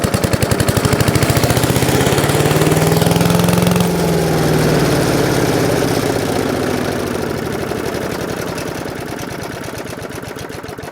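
A Craftsman wood chipper's small engine, found in a barn and leaking fuel, runs close and loud with a fast, rapid-fire putter that rises slightly in pitch, then settles into a steady idle that slowly fades.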